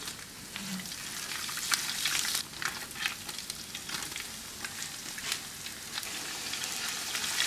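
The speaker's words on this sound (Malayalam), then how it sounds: "അതിനോടൊപ്പം കുറച്ച് തേങ്ങക്കൊത്ത് ചേർത്ത് നന്നായിട്ട് ഇളക്കി വഴറ്റുക." Dried chillies, whole spices such as cinnamon and cloves, and coconut pieces fry in hot oil while being stirred, giving a steady close crackling sizzle with sharp pops and scraping throughout.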